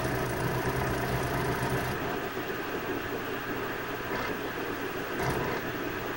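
A disc player spins up a disc, giving a steady low mechanical whir and hum that runs throughout at moderate level, with a slight change in tone partway through.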